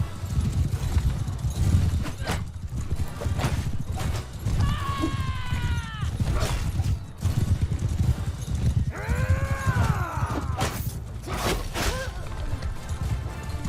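Horses clip-clopping and neighing amid a medieval battle in Mount & Blade II: Bannerlord, a continuous rumble of hooves with whinnies rising twice over the din, while a voice shouts commands throughout.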